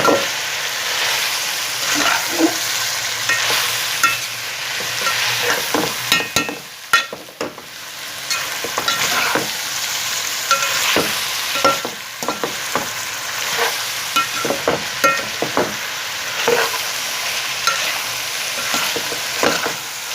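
Vegetables with capsicum and chicken are stir-fried for Chinese-style rice, producing a continuous loud sizzle broken by repeated spatula scrapes and knocks against the pan, with no voices.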